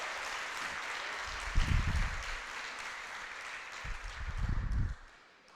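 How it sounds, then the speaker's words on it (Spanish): A church congregation claps in two short bursts of applause over a steady broadband hiss, rising, peaking and fading within a few seconds each, with a quiet gap between them. "dale un aplauso al Rey de Gloria"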